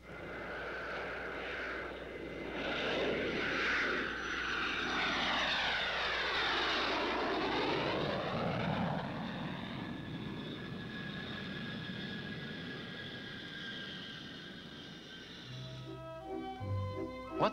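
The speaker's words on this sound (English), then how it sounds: "Orville and Wilbur Wright made man's first 4 controlled flights in a powered airplane" An aircraft engine drones steadily as an airplane passes, rising and falling in pitch with a Doppler sweep, loud and continuous before fading slightly at the end.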